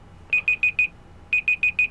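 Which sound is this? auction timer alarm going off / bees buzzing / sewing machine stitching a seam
auction timer alarm going off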